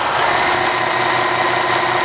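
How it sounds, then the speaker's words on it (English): A sewing machine stay-stitches purse fabric, running in a steady fast whirring chatter that stays loud and close without a break. "sew to about the center, and then stitch the other direction"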